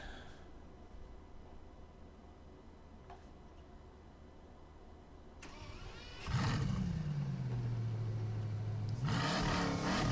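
A Bugatti Veyron engine in Gran Turismo Sport fires up and revs loudly after a quiet lead-in, a sweeping roar that falls and climbs again over a few seconds.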